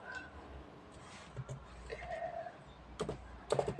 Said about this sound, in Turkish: klavyede şu şekilde ilerliyorum